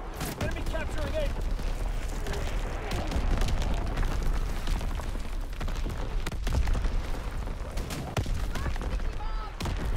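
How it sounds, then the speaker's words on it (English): Division artillery strike in Call of Duty: WWII, dense rolling gunfire and scattered booming impacts forming a continuous loud battle din, with a player talking over it. "Firing division artillery."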